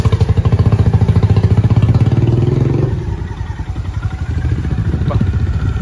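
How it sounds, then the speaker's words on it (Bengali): A new 2025 Honda CB350 motorcycle engine runs close by with a steady throbbing rumble, easing off partway through and continuing at a lower idle. "বাইক চলে এসছে।"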